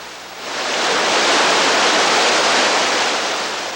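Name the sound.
Class 3 whitewater rapid on the Cumberland River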